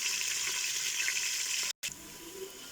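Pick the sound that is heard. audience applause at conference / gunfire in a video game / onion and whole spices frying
onion and whole spices frying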